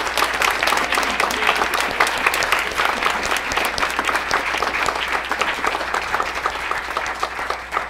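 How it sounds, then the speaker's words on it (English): Church audience applauds a choir after a 2016 Christmas cantata, a loud, dense and sustained round of clapping from a full room that holds steady throughout. "Let's give them a great round of applause."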